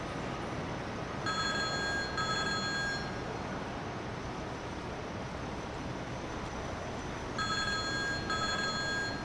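In the EmergeNYC firefighting emergency-dispatch game, a phone alarm box rings with a telephone-like electronic bell in two separate bursts over a steady, dense background hiss.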